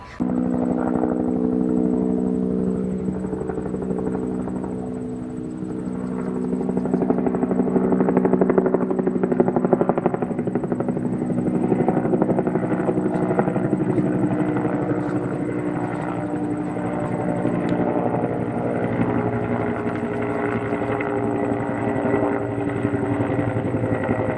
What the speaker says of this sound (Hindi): दोस्तों हम तो जा रहे हैं हेलीकॉप्टर में बैठने।